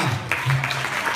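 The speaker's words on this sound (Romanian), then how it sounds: "Aplauze pentru Iulia Șorlea!" A school gala audience claps for a performer: a short, moderately loud burst of applause in a hall, with a hint of voices under it.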